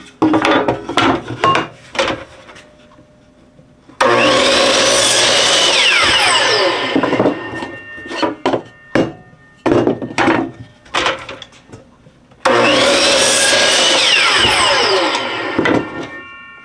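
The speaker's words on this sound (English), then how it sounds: "let's go over to the miter saw and cut those pieces off" A miter saw cuts small pieces of wooden board in two long, loud bursts of whining blade through wood. Between them come clattering knocks and handling of the pieces close by, with no speech.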